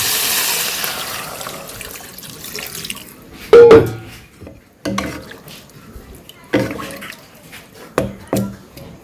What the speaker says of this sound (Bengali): সবজি কষানো হয়ে গেছে, এখন জল দিয়ে দিই।